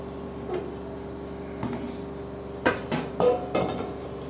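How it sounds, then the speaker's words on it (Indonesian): Boiled coconut being strained with kitchen utensils, with light ticks early on, then a cluster of sharp metallic clanks and scrapes against a pot, close and clear. "Kita saring kelapanya."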